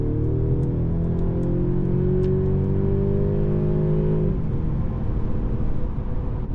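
A 2025 Mercedes-Benz CLE 300 coupe pulls hard at full throttle on the autobahn. The engine's drone climbs steadily for about four seconds, drops sharply at a gear change, then settles into a rough, steady roar under heavy road and wind noise.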